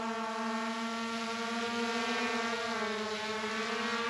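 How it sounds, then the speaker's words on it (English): Skydio 2 quadcopter drone flying forward outdoors among autumn neighborhood trees, giving a steady, loud, high-pitched propeller whine with stable tonal harmonics that shift slightly in pitch as it moves, continuous with no talk. "Let's see if we can bring the drone forward here a little bit."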